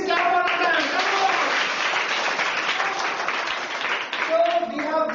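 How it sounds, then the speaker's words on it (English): A class of students claps together for a classmate in a schoolroom, dense steady clapping filling several seconds while the teacher's voice cuts in over it near the start and end. "please clap for Ratan"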